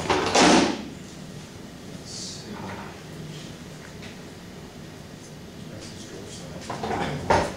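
A heavy, weighted drawer rolls along its metal slides with a loud opening clatter, quieter rumbling movement, and a few knocks toward the end, with faint voices in the room.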